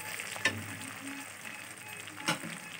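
Golda chingri (prawns) fry lightly in oil, a faint, soft sizzle with a couple of brief stirring clicks.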